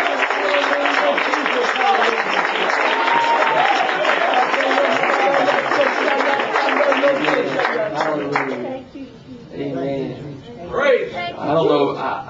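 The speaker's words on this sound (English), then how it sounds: "Let's clap our hands to the Lord." A church congregation at a dedication service claps hands together steadily and loudly for about eight seconds, then voices and scattered sounds follow as the clapping dies away.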